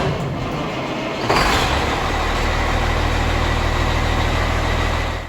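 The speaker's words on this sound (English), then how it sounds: "I think that's our Freightliner with the cat engine." A Freightliner semi truck with a Caterpillar diesel engine running: a loud, steady low diesel rumble that swells slightly after a second and holds close and constant before cutting off.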